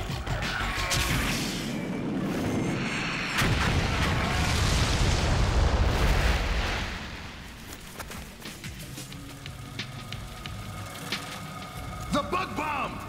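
Bug bomb detonating inside a methane-filled cave in an animated sci-fi series, a loud sustained roaring blast with crashing debris that fades into rumbling, scattered cracks and a short burst near the end.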